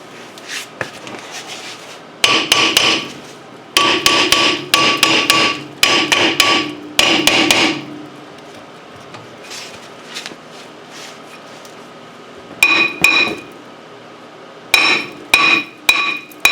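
A rubber mallet taps on a stuck front brake part of a 2007 Honda Accord, in repeated bursts of sharp, close, loud knocks with short pauses between groups, and no talk.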